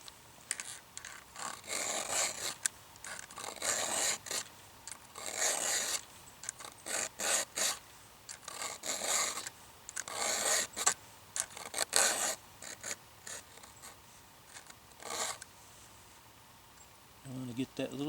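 A hand file rasps against a chainsaw chain's cutters and gullets in quick, uneven strokes, faint and close, with pauses between bursts.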